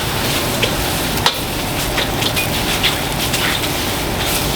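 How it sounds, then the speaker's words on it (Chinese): Century egg frying with sweet potato leaves and rice wine in a pan: a steady, dense sizzle with occasional small pops and stirring knocks throughout. "给它稍微煎一下"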